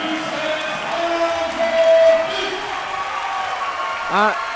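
Spectators cheer at a 2010 men's college volleyball semifinal as St. Ambrose reaches game point. A continuous crowd roar and applause swells under a commentator's voice.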